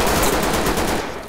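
Rapid automatic gunfire from the tactical shooter game Ready or Not, a loud, continuous burst of closely spaced shots lasting just over a second with no speech over it.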